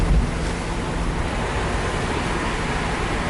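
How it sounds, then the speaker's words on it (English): Strong wind blows outdoors in Miami during Hurricane Ian, a steady, loud roar buffeting the microphone for the whole stretch, with no voices. "Look, it's a little windy"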